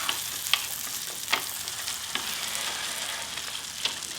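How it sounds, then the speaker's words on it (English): Sourdough crepe batter sizzling in a hot skillet, a continuous close hiss with a few faint ladle taps spread through it. "we're gonna start by ladling our batter right in the middle of the skillet"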